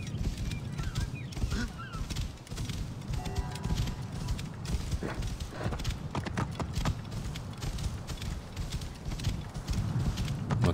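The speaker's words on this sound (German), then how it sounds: "Ich hole mal kurz ein Pferdchen. Wir reiten mal kurz in die Richtung." Hooves clip-clop at a steady, continuous gallop as a horse is ridden in the video game Assassin's Creed Origins, loud and rhythmic throughout with faint game ambience beneath.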